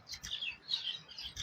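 Birds chirp in a park in quick, repeated high tweets, several calls in a short burst, fairly close and clear over a quiet background with no talk.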